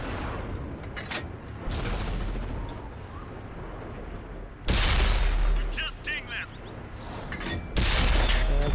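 Tank cannon fire in a World of Tanks battle, with heavy blasts over constant engine and battle rumble, two loud shots standing out in the second half.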